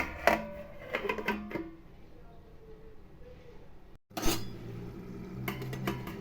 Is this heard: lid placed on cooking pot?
yes